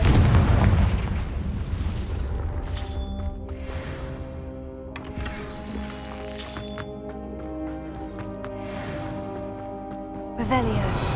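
Fiery spell blasts from the wizard duelling game Hogwarts Legacy, a heavy boom opening the scene and bursts near the three- and five-second marks, ringing out over a sustained orchestral music bed, with a fresh impact right at the end.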